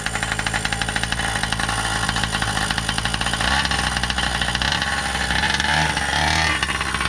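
Buzzy, high-revving small nitro engine of a Primal R/C Raminator monster truck running steadily with rapid rhythmic pulses, close and loud, wavering slightly near the end.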